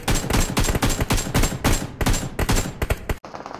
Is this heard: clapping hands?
no